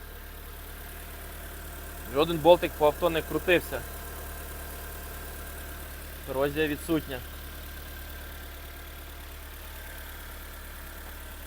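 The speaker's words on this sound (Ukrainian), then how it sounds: "Автомобіль заводиться чітко плавно, не димить, не троїть, мотор працює рівно." A steady, low engine idle from a 2003 Volkswagen Passat B5+ with a 1.6 MPI petrol engine hums evenly the whole way through, while someone speaks over it in two short bursts.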